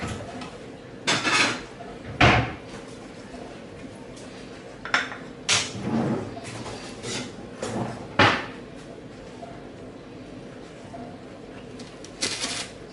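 A knife slices into a chilled chocolate poppy seed cake, giving a handful of short, scattered scraping clicks and taps against a plate or board, with quiet pauses between them and no talking.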